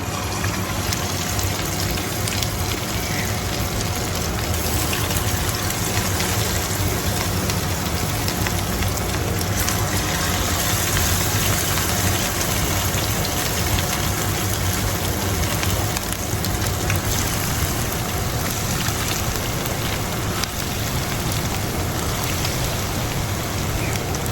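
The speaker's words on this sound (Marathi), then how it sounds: "सो चल फ्राय करुया. तेल तापोला." Crispy chicken frying in hot oil gives a loud, dense sizzle that stays steady and unbroken throughout, with no voices over it.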